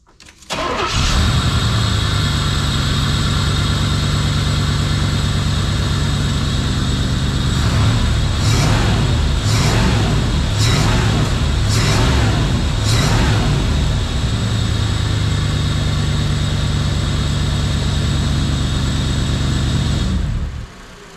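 A 1987 Pontiac Trans Am, freshly repaired, cranks and fires up, then runs loud and close with a steady idle broken by several sharp revs in the middle before cutting off near the end.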